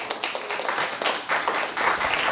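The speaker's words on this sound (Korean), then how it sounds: "다시 한번 박수해 주세요" An indoor audience at a health lecture claps together in a short burst of steady, dense applause that lasts for a couple of seconds.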